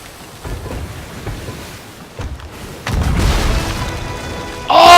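A ship's cannon fires, a deep booming blast rolling out with a broad rumble over ongoing storm-like noise, followed by a sharper burst of sound at the end.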